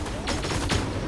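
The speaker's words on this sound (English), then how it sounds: "Getting shot from someone I have no idea where." Gunfire in the Fortnite video game on PS5: a quick volley of several sharp shots in about a second, fairly distant and moderately loud, over a steady background rumble.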